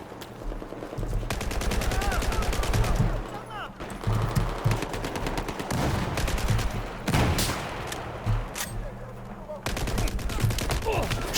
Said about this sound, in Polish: kto do mnie strzela, kto mnie ciągle zabija?